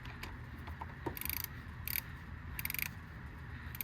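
Ratchet wrench clicking in short bursts while torquing the intake cam bolt on a MINI Cooper N12/N16 engine during a timing chain job, quiet and close with mechanical clatter between the bursts.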